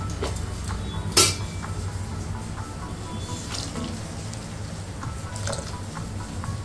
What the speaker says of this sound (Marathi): ओके, आता याच्यामध्ये आपल्याला टाकायचं आहे पाणी.